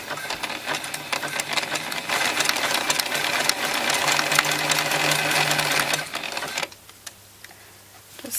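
A sewing machine stitches a stretchy singlet in a steady, fast, close mechanical whir that runs continuously for several seconds, then cuts off abruptly into near quiet.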